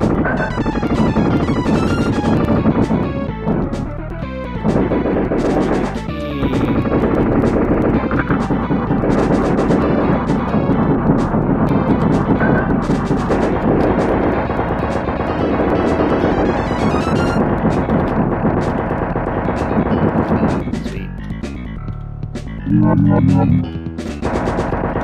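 Relentless machine-gun fire and explosions roar from the arcade game Total Carnage, a loud, dense barrage that barely lets up for the whole stretch, with brief rough bursts near the end.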